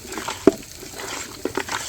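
Biryani ingredients are stirred and mixed in a pot for a Bhimavaram-style chicken dum biryani. A sharp scrape and clink stand out, then a few softer stirring knocks over a quiet background.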